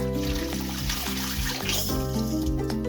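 Strong well water gushes steadily and loudly from a hose turned on full, without pause, with a low rumbling tone underneath, on an off-grid homestead in Portugal.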